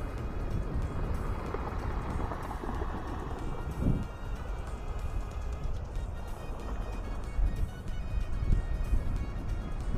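A boat motors into the harbour at Jivana port near Shrivardhan during the monsoon, a steady low engine rumble mixed with wind and water noise throughout, with a brief louder swell midway.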